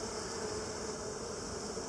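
A dense, continuous buzzing drone of many honey bees close by during a hive inspection, steady and unbroken throughout.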